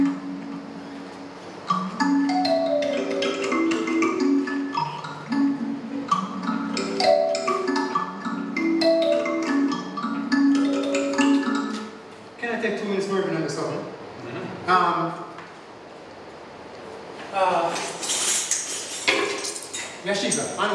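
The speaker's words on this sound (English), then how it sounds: "It's also called a kalimba or a thumb piano and various other things," A homemade mbira, or kalimba, plucks a bright, metallic melody, its tines ringing and overlapping in a quick, steady rhythm before a burst of clattery noise near the end.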